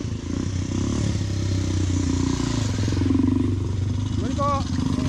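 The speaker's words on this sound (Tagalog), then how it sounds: "Uy, may motor." A motorcycle engine drones and rumbles steadily as it passes along a downhill and uphill road near a fatbike rider, mixed with wind and bike clatter while someone talks briefly.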